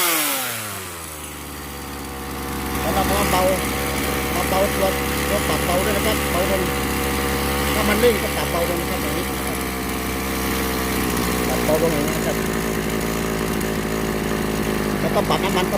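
A chainsaw engine, freshly adjusted for fuel after being hard to start, idles and then revs up to a sustained high, buzzing whine that wavers slightly as the throttle is held, close and loud.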